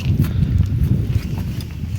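Hooves of a draft horse clop on the ground in an uneven walking rhythm, fairly close, with a low rumbling background.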